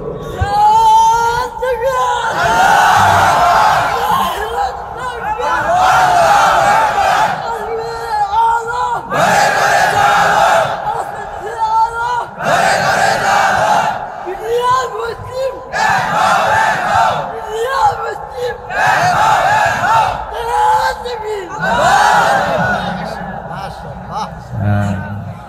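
A large crowd at a Bangla-speaking religious gathering shouts a slogan together in repeated loud bursts, voices swelling and falling in rhythmic waves with brief pauses between chants.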